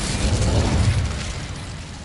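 An Incendio fire spell is cast in Hogwarts Legacy, giving a loud, sustained whooshing roar with a rumbling low end that fades slightly over two seconds.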